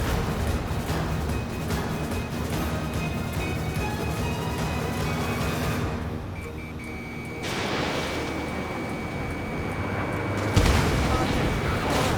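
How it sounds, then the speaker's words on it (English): Missile striking an enemy fighter jet in the video game Ace Combat 7: Skies Unknown, a heavy boom amid continuous jet engine roar, with a second burst of noise near the end. "Missile hit."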